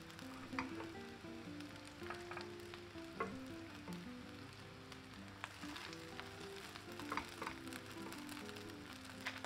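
Boiled noodles sizzling in a pan with walnuts, a soft, continuous frying crackle with scattered pops and light stirring scrapes, fairly quiet and without any voices.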